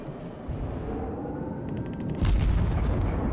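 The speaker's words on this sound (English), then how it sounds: "Oh, we're firing AP again?" Heavy naval gunfire from warship guns launching armour-piercing shells in World of Warships, a rumbling boom that swells near the end over a steady low roar of game ambience, with no talking.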